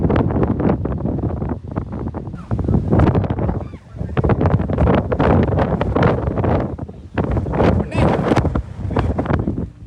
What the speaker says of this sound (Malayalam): ಗಾಳಿ ಜಾಸ್ತಿ ತುಂಬಾ ಜಾಸ್ತಿ ಇದೆ